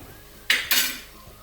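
Pots and metal utensils clatter sharply twice in quick succession while masala is cooked for pasta on a gas stove, the second clang ringing out briefly against a quiet kitchen background.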